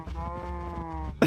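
Cows being struck in Minecraft give a close, loud moo-like bleat that holds steady for about a second and ends in a sharp hit, with no talking over it.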